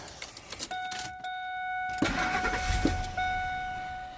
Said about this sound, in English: So now we'll go ahead and we'll start the car up.